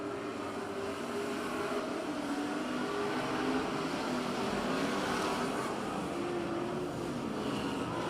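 Pure stock race cars roar down the front stretch of the Placerville Speedway oval during a main event, a continuous, fairly distant engine drone that swells slightly as the pack passes.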